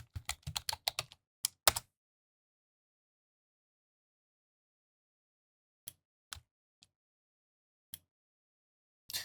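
A computer keyboard is typed on quietly: a quick burst of clicking keystrokes, then a long pause and a few scattered single taps.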